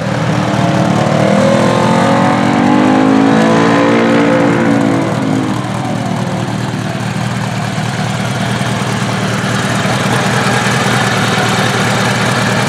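A 1978 Honda Goldwing motorcycle engine revs up strongly, climbing and falling a few times, then settles into a steady loud idle.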